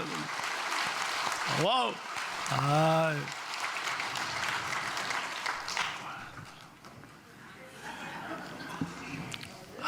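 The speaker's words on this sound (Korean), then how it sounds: "크게 감사와 영광의 박수 크게 올려드립니다" Applause from a church congregation after a choir's praise song at Pohang Central Church, a broad wash of clapping through the whole span, with voices calling out and an exclamation over it.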